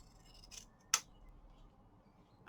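A single crisp snip of big scissors cutting fabric near the mic, a sharp brief cut standing out against quiet room noise.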